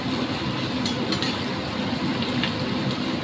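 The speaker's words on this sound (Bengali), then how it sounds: "পেঁয়াজটা আমি ভাজছি" Onions frying in a pan as part of a spinach and potato curry, giving a steady, even sizzle that runs throughout at moderate loudness, with a few brief sharper crackles near the start and no voices.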